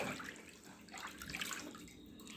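Warm water with baking soda and lavender oil being stirred by hand in a foot bath, a soft, steady swishing and sloshing that stays fairly quiet throughout.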